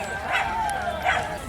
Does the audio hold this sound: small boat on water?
no